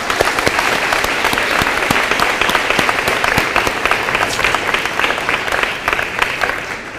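An audience at an 8th grade awards ceremony applauds steadily for honor students, dense clapping holding at an even, fairly loud level for the full stretch without voices standing out.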